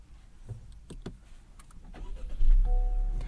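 A 2023 Honda Accord EX 1.5-litre turbo engine cranks and catches near the end, preceded by soft clicks and rustles inside the cabin; a faint electronic tone chimes as it starts.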